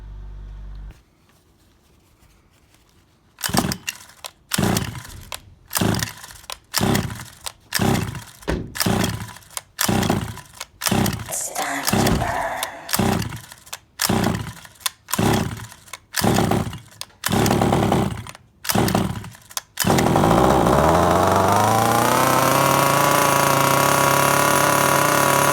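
A Rovan Baja 5B RC car's small gas engine is pull-started again and again, each pull giving a short rasping burst, then it catches and runs with a loud, steady, buzzing drone.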